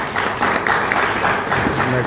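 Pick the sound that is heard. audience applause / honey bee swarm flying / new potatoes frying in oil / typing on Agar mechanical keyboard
audience applause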